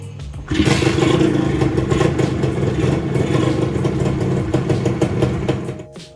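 A Dinamik 120 motorcycle engine fitted with a CDI runs steadily and loud, with a rattly mid-pitched drone after a brief quieter start, then tapers off at the end.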